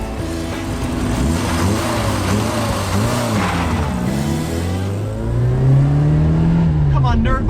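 A car engine roars loudly at full throttle up a hill at 5,000 RPM in third gear, its pitch climbing steadily as it revs hard, with a continuous close-up drone throughout.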